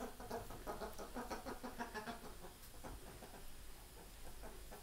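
A flock of geese heard faintly through steady hiss, with a string of quick nasal clucking calls that thin out partway through, no one speaking.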